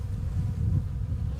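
A dense, steady buzz of a package of honeybees being installed into a hive, swarming close by, a continuous low droning hum with no voices.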